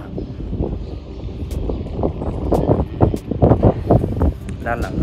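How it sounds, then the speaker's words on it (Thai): Wind buffets a phone's built-in microphone outdoors at the Wat Ban Rai temple grounds, a steady rumbling roar with gusty surges, while someone talks over it. "ลมดีครับ"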